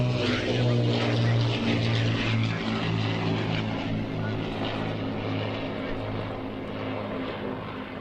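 Steady drone of a Merlin-engined propeller aircraft flying past, loud and close at first, its engine note slowly fading as it moves away, with talking faintly underneath.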